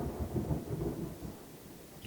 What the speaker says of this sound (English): This is like a real thunderstorm.